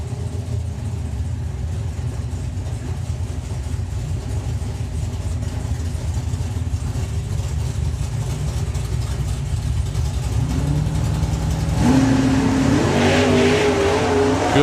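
A drag racing car idles with a steady, rumbling burble for a long stretch, then launches off the line into a loud, climbing roar of revs near the end.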